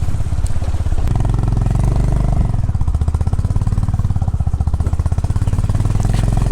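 Honda Highness motorcycle engine labouring in first gear up a steep off-road trail, a loud, close, steady rumble with a rapid pulsing beat that hardens and throbs more strongly partway through.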